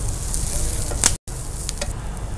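Curry leaves and cauliflower fry in a pan with a steady, loud sizzle throughout, broken by a brief sharp crackle and a split-second drop in sound near the middle.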